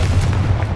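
A Confringo blasting spell in Hogwarts Legacy goes off as a loud, dense, rumbling blast with heavy low-end boom that sustains through the short moment, with no voices over it.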